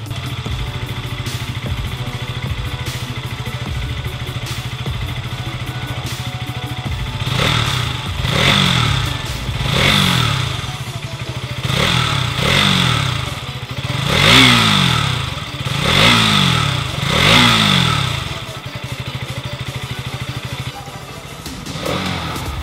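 A 2021 KTM Duke 200 motorcycle engine idles close by, then revs repeatedly in a series of sharp rising and falling bursts before settling back to a steady idle.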